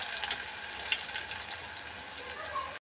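Chopped onion sizzles steadily in hot oil in a home kitchen pan, a loud, continuous frying hiss that cuts off abruptly at the end.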